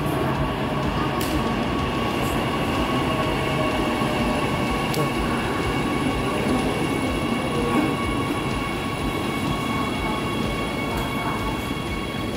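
Riding inside an electric LRT light rail train near Rawamangun, a steady, loud rumble of wheels and motor fills the cabin with a continuous drone and faint high tones, occasional light clicks and brief faint voices.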